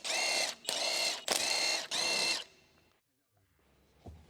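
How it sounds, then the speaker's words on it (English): An electric impact wrench with a 19mm socket spins off the front wheel lug nuts on a 2021-2024 Ford Bronco 4WD: four loud, rattling hammering bursts in quick succession, then near silence and a faint clank. "19mm socket but on the electric impact to remove the front wheel lugs"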